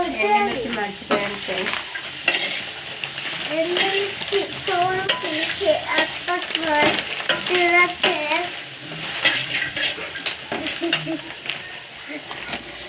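Sago upma ingredients stir and sizzle in a hot pan, with a spoon scraping the metal in an irregular rhythm, close and fairly loud, while someone talks over the cooking.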